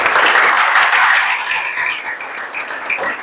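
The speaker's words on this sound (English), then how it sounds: "Clap for you." Children clapping at an anti-drug abuse campaign gathering in Bomadi, Delta, a dense burst of applause that is strongest at first and thins toward the end.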